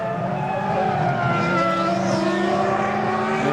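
Formula One cars at the 2003 United States Grand Prix first free practice, engines screaming at high revs and rising in pitch, loud and sustained, with no talk.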